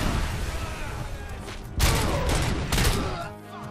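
Pistol shots in the video game RoboCop: Rogue City: two loud, punchy gunshot bursts with booming tails, set against a dense, rumbling game soundscape.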